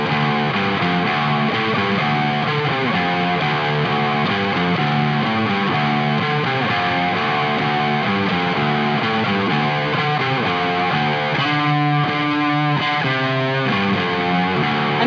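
A distorted electric guitar plays a riff, a loud, steady, chugging pattern with fuzzy overdriven tone and a brighter change near the end, alone with no talk.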